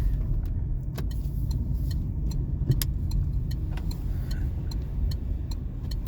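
A car drives along a city street, its steady engine and road rumble continuous and close throughout, with scattered faint ticks and clicks from inside the cabin.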